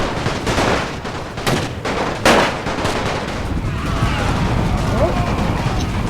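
Musket volleys crack in Napoleon Total War during a Great War scenario Serbian defense: loud, repeated sharp gunshots in bursts, then a dense rattling of distant fire underneath.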